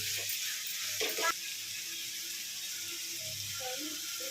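Prawns frying in oil in a pan, a faint, steady sizzle held close with brief louder stirring near the start and soft background tones.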